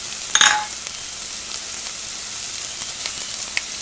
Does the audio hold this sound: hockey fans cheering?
no